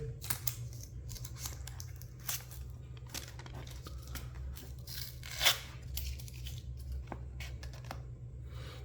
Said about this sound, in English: now we need to remove this tape from here